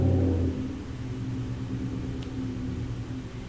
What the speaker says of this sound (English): there's a car and it's being loud. I think it's the engine.